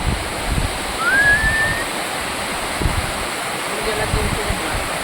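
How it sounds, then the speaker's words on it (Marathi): Water rushing down at full pressure, a loud continuous roar like a waterfall, with a short whistle-like tone briefly above the rush. "फुल प्रेशर चालू आहे बघा पाणी."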